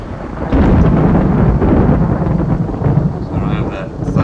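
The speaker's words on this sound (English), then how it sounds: "So I don't have that thunder in the background." A deep rumbling roll of thunder in the video game Skyrim swells and sustains through the whole stretch, heavy and close, with a hiss like rain or wind behind it.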